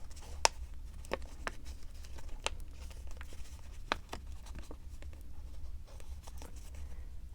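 Paper is folded, squeezed and pressed into a diamond rosette using a die, giving soft creasing rustles and several distinct sharp clicks and taps over a steady low hum.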